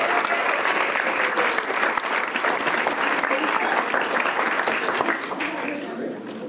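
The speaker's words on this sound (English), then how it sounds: "So one more time, let's have an applause for every" Sustained applause from a large crowd, dense and steady clapping that fades slightly toward the end.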